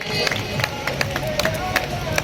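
Crowd clapping and cheering for children receiving awards at a school prize distribution day, a busy continuous din with scattered sharper claps and voices mixed in.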